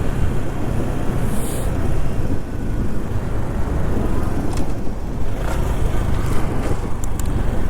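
A Honda Super Cub C125 motorcycle being ridden, a steady loud engine drone mixed with heavy wind rush heard from the rider's position, holding constant with slight surges.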